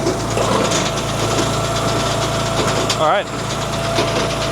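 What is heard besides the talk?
Wolfe Ridge DC-10C disc cleaner running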